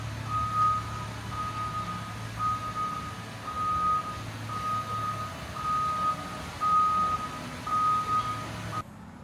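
An excavator backs into a vinyl wrap shop, its reversing alarm beeping steadily at a regular rhythm over a low engine rumble for several seconds before cutting off.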